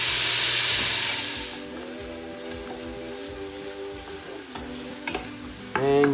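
Onion for meatballs goes into a hot pan with a loud burst of sizzling hiss. The sizzle settles into a steadier fry with a faint tonal hum, and a few scrapes and clinks of stirring come near the end.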